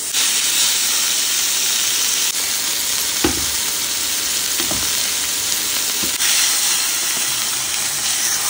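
Loud, continuous sizzling of a ribeye steak in a pan, with a few soft knocks and scrapes as the meat cooks.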